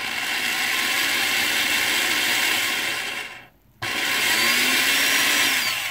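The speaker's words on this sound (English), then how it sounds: "just let the drill bit grab, and then you can speed up a little bit." A power drill whines steadily and loudly, stops briefly, then starts again and keeps running at a constant pitch.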